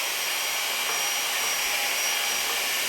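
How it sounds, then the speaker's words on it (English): Dyson V8 handheld cordless vacuum cleaner sucking up spilled dirt, a loud, steady high-pitched motor whine and airflow hiss that runs unbroken from start to finish, close up and alone without talk. "I'll just use this little nifty vacuum cleaner I have"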